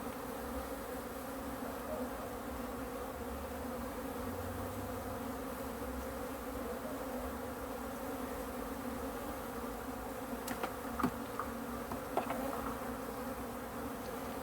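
Honeybee swarm buzzing as a steady, dense drone that continues throughout, close by and even in loudness, with a few faint clicks and knocks near the end.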